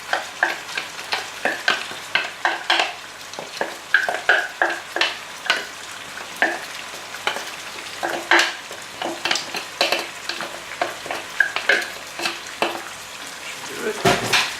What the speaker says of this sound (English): we're gonna add the onion in